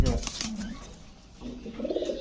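Rampuri pigeons coo softly in low, throaty bursts close by, mixed with rustling and a few clicks, with a voice briefly audible in the background.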